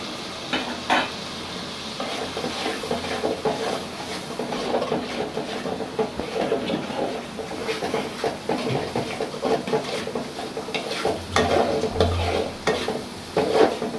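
Goat head sautéing in a pot with turmeric, coriander and chili powder, a continuous loud sizzle broken by repeated scraping and clanking stirs of a spoon against metal, with no talking.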